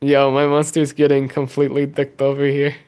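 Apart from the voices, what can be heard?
No everyday noise stands out behind the speech.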